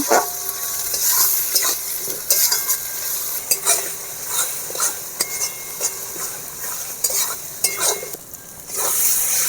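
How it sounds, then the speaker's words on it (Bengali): Tomato, Kashmiri chili powder, cumin powder and salt frying into a masala for chicken curry, loud sizzling under repeated scraping and clattering stirs of a utensil against the pan. "টমেটো কুচি কাশ্মীরি লঙ্কা গুঁড়ো স্বাদ মতো লবণ ভালো করে ভেজে নেব"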